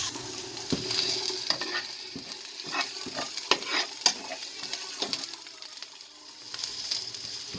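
Garlic and ginger sizzle in a pan while being stirred, bursts of frying crackle rising and falling with scraping strokes, close and fairly loud, then a brief lull before the sizzle resumes, with no talking.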